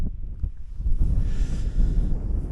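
Cold gusts of wind buffet the microphone at Easdale Tarn in the Lake District, low rumbling blasts that swell and ease, heard alone without talk.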